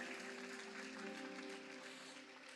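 Church congregation applauding during a worship service, dense broadband clapping from a crowd held steady throughout, slightly fading toward the end.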